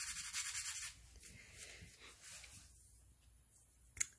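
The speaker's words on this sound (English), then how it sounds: "So I'm going to use a little piece of sandpaper." A painted rock scuffed with a small piece of sandpaper, soft close rubbing strokes that start stronger, then thin out into faint scratching, with a small tap near the end.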